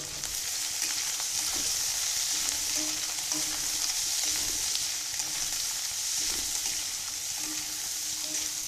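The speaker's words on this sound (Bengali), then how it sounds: "এখন এটা হালকা হালকা ভাজতে হবে।" Olives fry lightly in a pan with a quiet, continuous hiss of oil. Soft, occasional stirring bumps sound beneath it.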